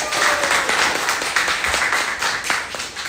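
A crowd of people clap in steady applause, a dense, loud patter of hand claps that holds for the whole stretch with no clear speech on top.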